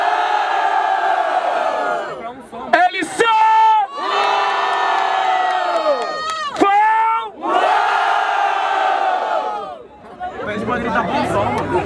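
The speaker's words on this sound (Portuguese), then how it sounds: "Barulho pra quem gostou das rimas do LC" A crowd at a rap battle in Barueri, São Paulo cheers and shouts loudly in repeated surges with whoops, the noise dipping briefly between waves and swelling again.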